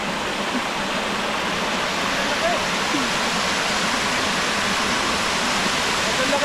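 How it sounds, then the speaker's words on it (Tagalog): Strong rushing water pours from a dam outlet in a dense, constant roar, close and loud, with faint voices barely audible beneath it. "Ang laki ng agos oh."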